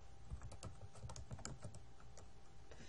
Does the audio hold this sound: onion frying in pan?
no